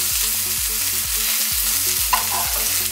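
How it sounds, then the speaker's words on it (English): Meat and vegetables fry in a pan with a loud, steady sizzle, alongside a repeating background music pattern and a faint clink of a utensil partway through. "You're just kind of cooking the vegetables."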